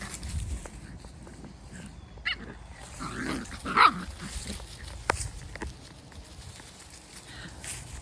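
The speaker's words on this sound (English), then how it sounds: "Puppy." A puppy gives a few short, scattered yips and barks outdoors, with footsteps and light rustling in between. The sounds are fairly close but not loud.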